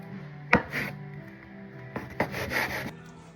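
A bench scraper slices through a ball of sourdough on a board, giving one sharp tap near the start, then soft scraping and pressing strokes followed by a couple of quieter knocks, close and alone without talk.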